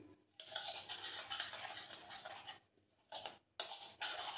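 A spoon stirs and scrapes turmeric powder into a paratha breakfast mixture with a close, gritty scratching that keeps going, broken by two short pauses.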